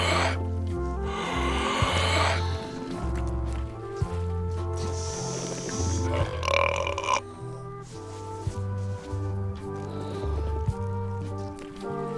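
Cartoonish belches from a burping contest in the video game Return to Monkey Island come in several drawn-out bursts over a steady, bouncy musical score, moderately loud and without speech.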